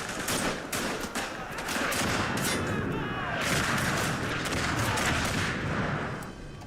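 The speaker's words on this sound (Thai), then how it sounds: "เฮ้ยผมได้ยินเสียงระเบิด" Dense, continuous bursts of gunfire and booming explosions from a battle in the video game Verdun, loud and close, with rapid crackling shots throughout.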